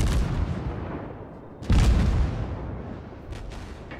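Naval guns boom in World of Warships, a heavy blast rolling into a long decaying rumble, followed by fainter distant reports near the end.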